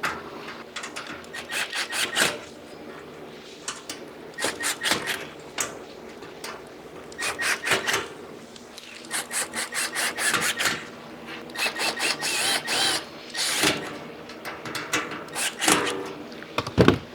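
Bolts being tightened down during shelf assembly, heard as repeated bursts of ratcheting and rasping scrapes in clusters with short pauses between them, close up and with no talking.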